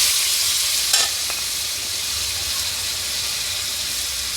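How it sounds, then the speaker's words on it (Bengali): Ground tomato paste goes into a pan of frying spices and chilli powder and is stirred in, producing a loud, steady sizzle with a brief scrape early on and continuous hissing throughout. "দিয়ে দেবো বেটে রাখা টমেটো"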